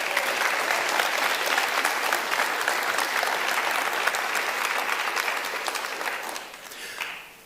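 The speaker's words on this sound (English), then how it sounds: "Let's give them a huge round of applause." Audience at the 2025 Northern Territory Australian of the Year Awards ceremony breaks into sustained, dense applause, steady and full before tapering away in the final second.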